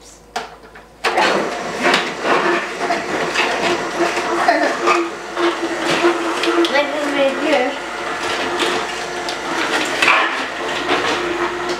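An electric juicer motor runs steadily with a rough, grinding whir, starting abruptly after a brief pause and continuing loud and close, with some clatter and a voice faintly underneath.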